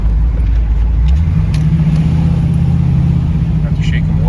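A car with a 416 stroker LS3 V8 cruises slowly down a residential street, its engine giving a steady, deep, loud rumble throughout with no sharp revving.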